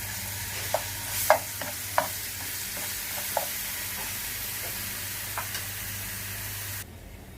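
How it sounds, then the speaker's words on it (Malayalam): Ginger garlic paste fries in oil in a pan, a steady close sizzle with occasional spoon stirs and clinks, cutting off abruptly near the end. "ഇതിലേക്ക് 1 സ്പൂണ് ജിഞ്ചർ ഗാർലിക് പേസ്റ്റാണ് ഇട്ട് കൊടുക്കുന്നത്."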